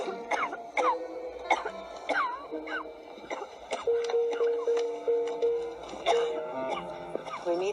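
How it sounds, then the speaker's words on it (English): A woman coughs repeatedly in harsh, uneven bursts, fairly close, with throat-clearing sounds mixed into the rhythm. "that woman back there is coughing and coughing."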